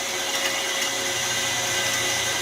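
An electric mixer runs steadily while mixing sausage meat of small cubes and thin strips, a loud continuous whirring motor drone with no pauses.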